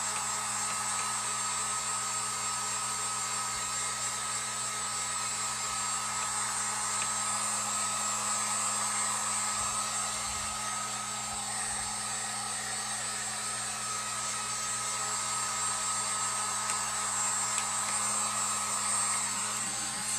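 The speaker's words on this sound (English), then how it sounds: "I'm just going to get my heat gun, make sure everything's dry." A heat gun blows steadily to dry black and white paint on a sign, a continuous close whooshing hum with a low electrical drone underneath, unbroken for the full length.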